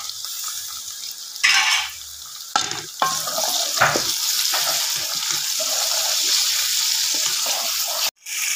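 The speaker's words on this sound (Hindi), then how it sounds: "ये देखे मैं इसको अब भूनने लगी हूँ।" Meat frying in a pan with garlic-ginger paste and tomatoes, a continuous loud sizzle broken by stirring scrapes and clatter and one short clunk near the end.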